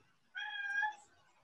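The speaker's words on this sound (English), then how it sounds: "Your cat's a real talker." A talkative pet cat gives one drawn-out meow lasting about half a second, clear and fairly close in an otherwise quiet room.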